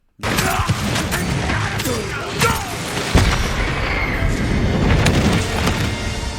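A loud explosion erupts in the samurai game Ghost of Tsushima, a dense roar of blasts, crashes and clattering debris with a sharp boom near the middle, sustained throughout without speech.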